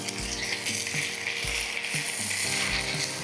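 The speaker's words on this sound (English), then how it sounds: "We're gonna allow this to simmer, get it all well incorporated and cooked down" A pot of Cajun gumbo with cabbage, peppers, bay leaves, filé and smoked paprika simmers with a steady crackling sizzle and bubbling, heard under background music with rhythmic, clicking accents.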